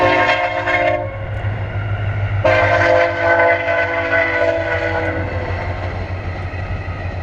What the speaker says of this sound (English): So I'll just pause it because there's a train coming.